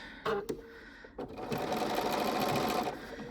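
A sewing machine stitches English paper piecing, its needle catching two fabric-covered paper edges; a couple of brief clicks and a pause as the presser foot lifts and the work pivots, then a steady close whirring run of stitching.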